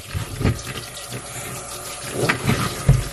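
Water running from a tap while a baby is rinsed, a steady splashing flow with a few louder splashes and bumps, close by and alone.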